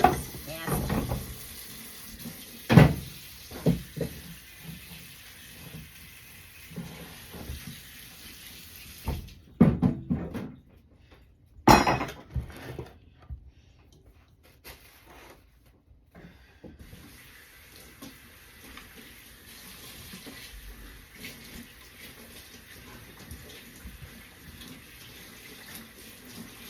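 A kitchen tap runs as fish is washed under it, with splashing and clatter in the first half before the water becomes a faint, steady trickle.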